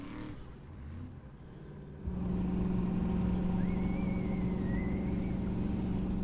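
Formula offroad car on the Icelandic circuit at Akureyri, its engine surging to a loud, sustained roaring rev partway through as it guns up a climb, with a rising and falling whine above it and no voices.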